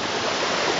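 Steady dense roar of water falling at Chiplima dam, a brief unbroken wash with no voices.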